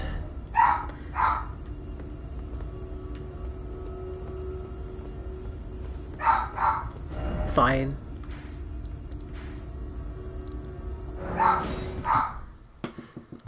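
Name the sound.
dog barking in the room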